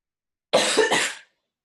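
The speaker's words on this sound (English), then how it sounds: "I'm gonna cough for a second." A single short, harsh cough, close and loud, in otherwise silent surroundings.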